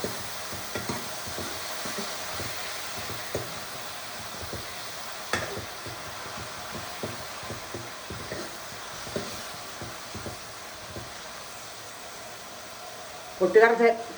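Curry ingredients sauté in a pan for a roasted chickpea curry. There is a soft, steady sizzle with frequent light stirring clicks and scrapes up close, growing briefly louder near the end.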